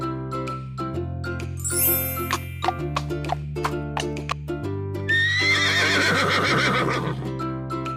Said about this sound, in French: Lui, c'est le cheval.